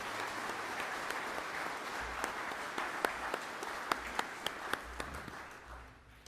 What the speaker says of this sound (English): Let's give these 3 members of our Board of Trustees a round of applause.